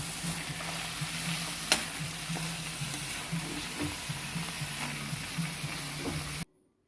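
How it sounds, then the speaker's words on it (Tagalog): Radish and carrots sautéing in a pan, with a steady close sizzle, scattered pops and scraping stirs, before the sound cuts off abruptly near the end. "Gisa lang natin yun guys. Tapos lagyan natin ng carrots. Gisa-gisa."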